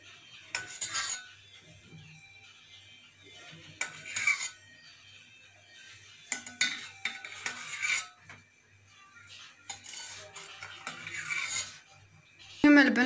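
A metal spoon scrapes and clinks against a pot while lifting the skin off freshly boiled milk, in several separate bursts of scraping with quiet gaps between them and a low steady hum underneath.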